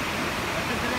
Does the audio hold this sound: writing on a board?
no